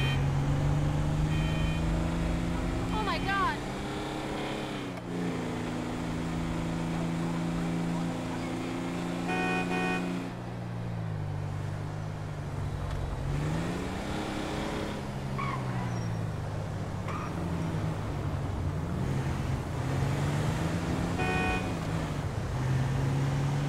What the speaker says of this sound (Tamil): ஸோ இன்றைக்கி கொஞ்சம் டிராஃபிக் ஹெவியாக தான் இருக்குது.